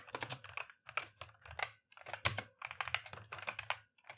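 Rapid typing on a computer keyboard, close and crisp, with dense clusters of key clacks broken by short pauses, heard alone without any talking.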